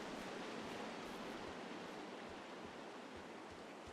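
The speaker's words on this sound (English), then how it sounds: "Oh, I love the sound of like moving water." Steady, broad rushing of flowing water in the video game Firewatch, continuous and fairly soft throughout with no talking over it.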